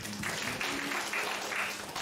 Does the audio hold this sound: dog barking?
no